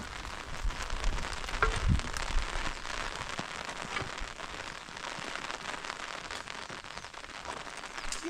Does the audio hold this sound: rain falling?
yes